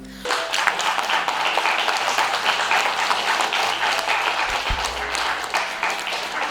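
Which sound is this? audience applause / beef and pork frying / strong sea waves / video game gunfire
audience applause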